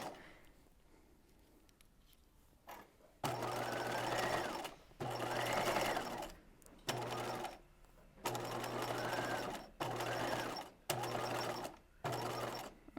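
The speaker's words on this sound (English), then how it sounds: "I'm going to edge stitch right on the edge to hold this edge in place." A sewing machine edge stitches along the edge of a Midge Breton top, running in several steady bursts of close, loud mechanical whirring separated by short pauses.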